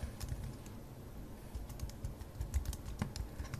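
A short stretch of fast, irregular keystrokes on a computer keyboard, heard up close and quiet with no one speaking.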